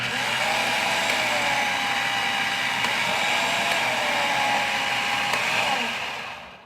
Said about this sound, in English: once you get used to using your food processor, you can switch from high to low